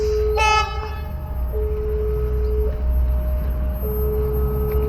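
A passenger train running from Padang toward Pariaman rumbles steadily nearby, with a two-tone warning signal alternating in the background and a brief horn-like blast at the start.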